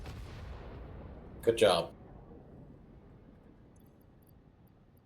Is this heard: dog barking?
no